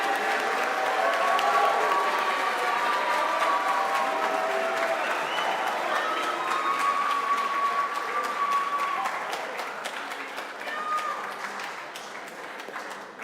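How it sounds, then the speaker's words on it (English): A crowd at an athletics awards ceremony applauds steadily for several seconds, the clapping gradually thinning out toward the end, with faint voices mixed in. "Please give a round of applause to Heng Yi"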